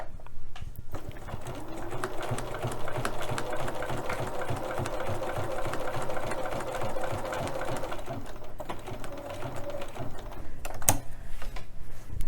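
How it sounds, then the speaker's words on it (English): A sewing machine fitted with a walking foot stitches a small quilting grid corner to corner in a steady, continuous whir with a rapid needle rhythm, fairly close, easing off near the end before a brief clatter. "I'm just going to go ahead and eyeball from corner to corner as I sew this"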